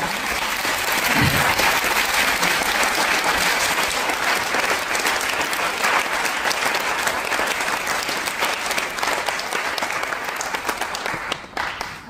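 Sustained applause from a large audience in the French National Assembly, loud and continuous, gradually thinning out near the end.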